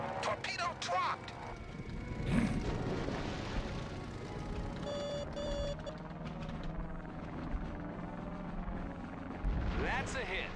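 A torpedo striking the Japanese submarine I-400 in the video game Heroes of the Pacific, a heavy rumbling blast amid aircraft engine drone and scattered gunfire, with a voice speaking over the battle.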